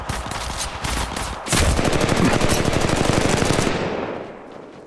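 Automatic gunfire in Apex Legends Mobile, a loud, close, continuous rapid burst lasting several seconds with dense repeating shots that fade near the end.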